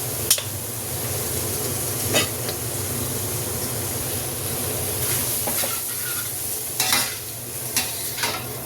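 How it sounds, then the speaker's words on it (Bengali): Tomato sauce goes into noodles frying in a hot pan, producing a constant close sizzle with intermittent scraping stirs and small spatters. "এখন একটু টমেটো সস দিব আমি।"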